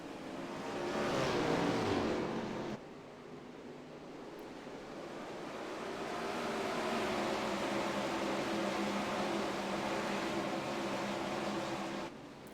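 410 winged sprint cars racing on a track in a racing video game, a dense, continuous roar of many engines blending into a steady wash that swells and eases slightly.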